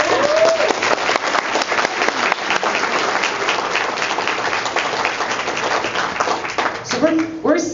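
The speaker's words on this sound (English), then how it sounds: "let's give a round of applause for that" A crowd claps at a Bernie Sanders campaign meeting in Riverside, producing thick, continuous applause throughout, with a voice cutting in briefly near the end.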